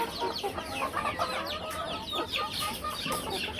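Young chicks held in a cage cluck and peep busily, with overlapping high chirps and soft clucks close by and continuing without pause.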